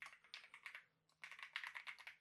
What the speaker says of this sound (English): just to hear and feel the keycaps